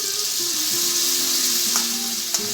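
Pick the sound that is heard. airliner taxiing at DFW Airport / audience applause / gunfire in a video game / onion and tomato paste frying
onion and tomato paste frying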